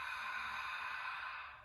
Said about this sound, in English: You can incorporate that ujjayi breath, that breath, the ocean's breath, by constricting our throat, breathing in and out of our nose.